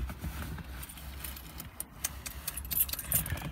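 Keys jangle close by as they are stuffed into a pocket beside a Golf Cabriolet, a light metallic rattling spread across a few seconds over soft background noise.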